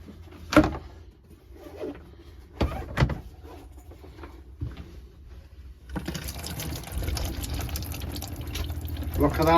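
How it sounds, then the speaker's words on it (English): Water running inside a caravan through a modified Aquaroll pipe, starting partway in as a steady, fairly close splashing flow after a few knocks and thumps, with voices talking over it. "we've got proper water flow after the modification, the hack with the aqua roll pipe"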